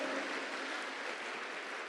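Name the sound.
audience applause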